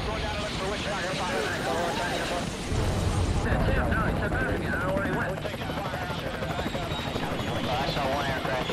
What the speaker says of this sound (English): Over the radios, we can hear the choppers ahead of us.